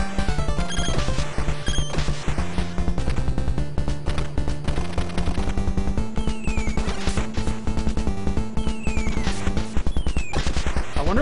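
Rapid gunfire from the tank in the arcade game Jackal, a dense, continuous stream of loud sharp shots and blasts over looping chiptune music, with no voices.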